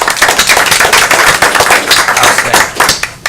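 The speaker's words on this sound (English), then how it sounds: "let's all give him a round of applause for his work" Applause at a city commission meeting in Douglas, Georgia, a loud, close burst of many hands clapping in a dense, irregular patter that carries on for several seconds.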